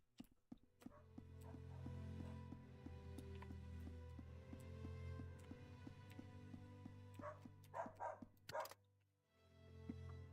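A dog barks in the Hollow Home video game, a series of sharp yips and barks over a low steady hum, with a few louder barks toward the end.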